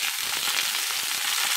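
Tomatoes roasting in a hot pan for salsa give off a loud, continuous close-up sizzle and crackle that holds evenly throughout, with no voices.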